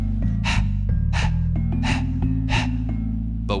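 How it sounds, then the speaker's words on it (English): Breath of fire breathing, with forceful exhales pushed through the nose and passive inhales in between. Five strong, evenly spaced breath bursts sound up close over a steady low hum. "The second breathing technique is known as the breath of fire"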